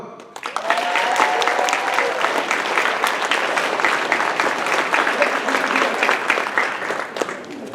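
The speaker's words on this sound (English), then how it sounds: "So please give a great round of applause for Gok." Convention audience at the Anime Central 2017 closing ceremonies applauds a fashion designer, a dense, steady roar of clapping from a large crowd lasting several seconds.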